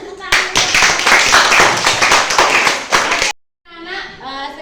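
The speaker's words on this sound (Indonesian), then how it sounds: "Tepuk tangan." A classroom of children claps together for about three seconds, a dense patter of close hand claps, before it stops abruptly and a brief voice follows.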